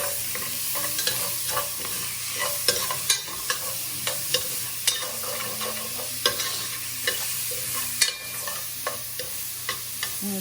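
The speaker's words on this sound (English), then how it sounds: "So I'm just going to add the onions now." Chopped onion and garlic fry in a pan and get stirred often, giving a steady close sizzle broken by regular scraping strokes of the utensil.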